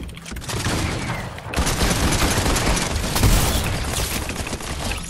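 Dense, continuous gunfire and booms in a Fortnite match, loud and sustained throughout with no talk.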